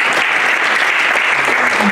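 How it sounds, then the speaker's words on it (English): A church congregation claps together as an offering during a worship service, a loud dense burst of applause filling the whole moment without letup. "So why can we give clap offerings to the living God?"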